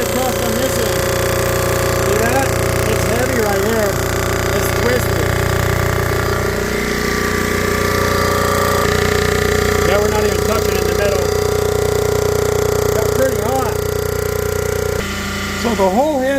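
A cylinder head resurfacing machine runs fast across a warped, twisted cylinder head, giving a steady loud grinding drone with rhythmic chatter throughout, while someone talks over it at close range.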